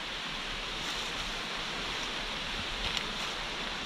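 Steady roar of Mobong Falls, a waterfall near Coffs Harbour, heard from a cliffside descent running parallel to it; dense, even broadband rushing water with no talk, constant in level throughout.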